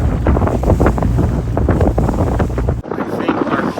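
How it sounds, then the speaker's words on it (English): Strong wind buffets the microphone with a loud, roaring rumble, gusting steadily, then briefly dropping before picking up again. "Very windy. Very, very windy."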